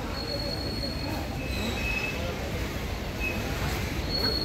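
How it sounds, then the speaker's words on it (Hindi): A train pulls into Bilaspur railway station during heavy rain, with a steady loud rumble of wheels and carriages and thin, high wheel squeals that come and go throughout. "तो भाई फाइनली हमारी ट्रेन आ चुकी है"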